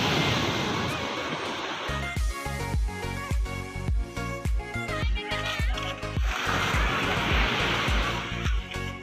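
Sea waves wash onto the beach at Baler, Aurora, a broad rushing surf noise at the start and end, interrupted in the middle by rhythmic music that covers it.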